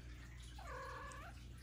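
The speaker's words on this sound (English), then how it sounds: "we have my cat here to join us" A single soft house cat meow, rising then falling over about half a second, heard faintly and alone over a low steady room hum.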